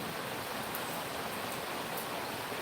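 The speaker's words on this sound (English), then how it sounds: "This is the rain. It's raining. Very, very, very, very rainy." Rain falling on a cold morning in Uganda, a steady, dense hiss of drops on surfaces, even and constant throughout with no talking.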